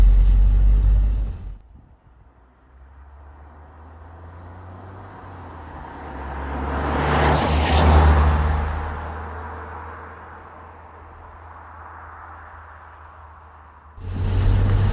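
Saab 9-3 Aero engine running while driving, a steady low rumble that swells into a louder rush around the middle and then settles back, heard from inside the car with no talking.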